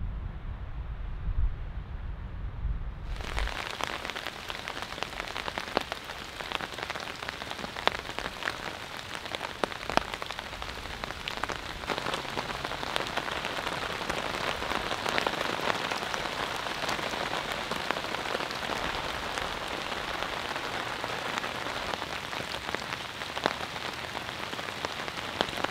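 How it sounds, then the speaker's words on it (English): Light rain patters steadily on an MSR Zoic 2P tent at night, a dense continuous hiss of drops on the fabric that starts abruptly after a few seconds of quiet and holds evenly throughout, with no voices. "the first rain event just took place. It rained for roughly 20 minutes. It was fairly light."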